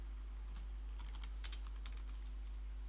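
Keys on a computer keyboard clatter in quick irregular taps over a steady low electrical hum, with a couple of slightly sharper strokes midway.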